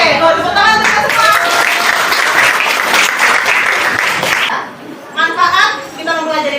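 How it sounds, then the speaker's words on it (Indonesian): Classroom applause from students during a school lesson, a dense burst of clapping for several seconds that cuts off, followed by voices talking. "kalau tepuk tangan untuk kita semua"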